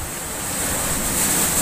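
Floodwater rushes continuously during Typhoon Odette, a steady, loud broadband roar like heavy surf mixed with wind, building slightly in intensity and heard alone without voices.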